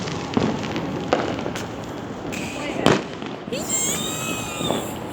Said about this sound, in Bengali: চারিদিকে বাজি ফাটছে, কোন দিক ছেড়ে কোন দিকে দেখাবো আমি নিজেও বুঝতে পারছি না।